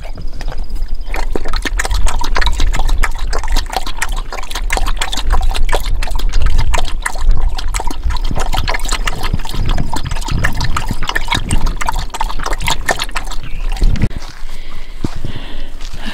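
Water poured into a puppy's bowl inside an RV, a loud, continuous splashing fill with crackly bursts lasting over fifteen seconds, ending with a brief louder slosh.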